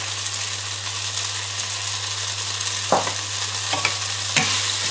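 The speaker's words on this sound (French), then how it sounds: "on peut placer les spätzle dans la casserole" Spätzle fry steadily in a pan, with a constant hiss and a few louder scraping stirs near the end.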